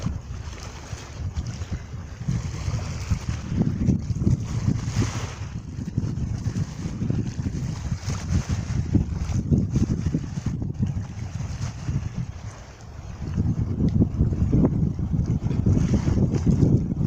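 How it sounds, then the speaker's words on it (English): Steady wash of beach waves and wind noise rolling on continuously, with low surging swells rising and falling and wind buffeting the microphone throughout. "Just listen to the rippling of those waves."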